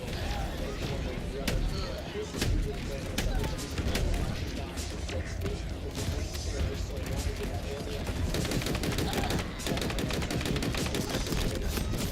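Rapid gunfire from auto turrets in a video game, dense continuous bursts throughout, with a voice talking over the shooting.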